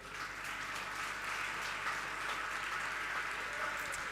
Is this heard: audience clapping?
yes